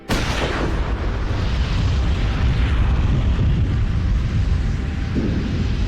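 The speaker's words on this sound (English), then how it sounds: "The natural gas accumulated to dangerous levels, contacted an ignition source," Natural gas explosion at a power plant, a loud sudden boom followed by a long roaring, rumbling decay with no voices.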